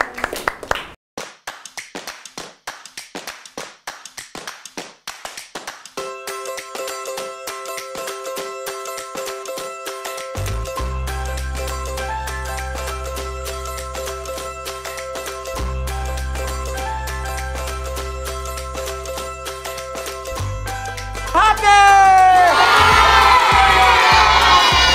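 A crowd of children claps and cheers at a city event, starting with scattered clapping that builds into sustained applause under music and ending in loud excited shouting.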